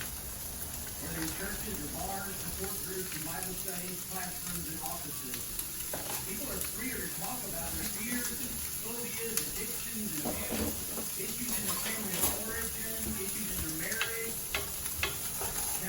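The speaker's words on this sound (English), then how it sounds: "Just take your time on the medium heat and just brown it." Ground meat browns in a skillet over medium heat with a steady sizzle and occasional spatula scrapes and stirring taps, while a person talks over it throughout.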